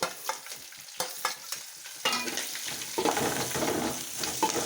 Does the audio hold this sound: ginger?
yes